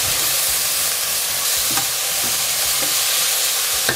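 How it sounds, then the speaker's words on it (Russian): Minced meat with peppers and cherry tomatoes frying in a pan gives a dense, steady sizzle with occasional stirring clicks, close and continuous without speech. "Обжариваем пару минут."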